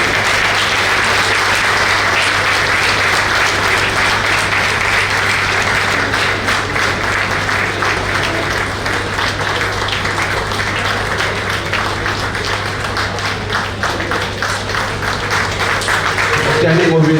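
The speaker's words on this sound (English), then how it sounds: "I will request for a big round of applause for her" An audience at a farewell ceremony breaks into a big round of applause, steady dense clapping that carries on for many seconds at a loud, even level before a slight swell near the end.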